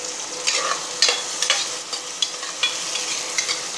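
Chilli drops into oil in a pan for chicken kulambu, sizzling steadily up close while a spoon stirs and scrapes in quick, repeated strokes.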